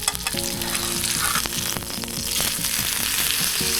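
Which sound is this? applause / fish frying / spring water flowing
fish frying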